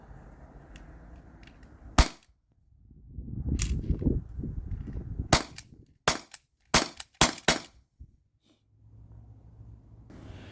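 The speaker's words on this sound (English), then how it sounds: "I got 6 more orange nylon balls in here, so this will be another 6 shots to the factory detent" A T4E HDP50 Gen 2 pistol fires orange nylon balls at cans outdoors: one sharp pop, then a series of five quick, loud cracks in an irregular rhythm, with rustling and breathing noise between shots.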